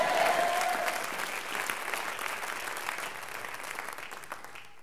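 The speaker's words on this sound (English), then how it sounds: "Clap your hands and shout yes." A church congregation claps and shouts together in a dense wash of applause that starts loud and slowly fades over a few seconds.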